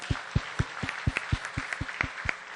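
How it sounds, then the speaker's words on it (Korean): A church congregation claps together in a steady, quick rhythm, about a dozen even beats, fairly close and with no voices. "하나님께 영광의 박수를 드리겠습니다."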